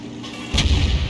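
A single heavy tank cannon shot in a video game booms out loud and close, a short deep blast that rolls on briefly after the initial crack.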